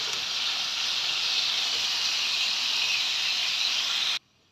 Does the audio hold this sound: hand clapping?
no